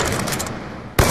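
A gunshot cracks in a quick-scoping video game match, one sharp, loud report at the very end after a stretch of dull game ambience.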